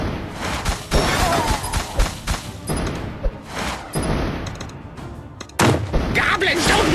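Kingdom Rush Vengeance gameplay bursts with repeated explosions and booms, dense thumping blasts and gunfire-like cracks piling up over a few seconds, loud and busy, with short drops between bursts.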